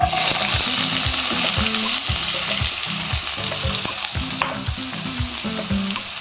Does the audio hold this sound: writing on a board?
no